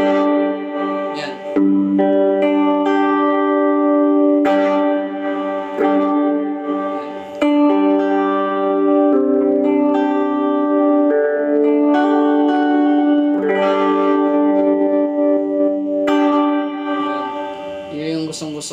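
Electric guitar played through a Sonicake Levitate reverb pedal, with decay at 12 o'clock and reverb at 2 o'clock: chords and notes ring out, leaving long washy tails that blend together over sustained passages.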